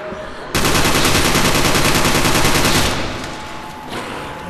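Sustained automatic AK rifle fire in a Nazi Zombies custom moon map, a loud, rapid unbroken burst of about two and a half seconds that then tapers into quieter game noise.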